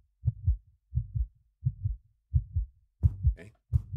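A heartbeat in the one-room psychological horror game Delirium: six evenly spaced double-thump beats, deep and close, each lub-dub pair clear against silence, with faint higher rustling over the final beats.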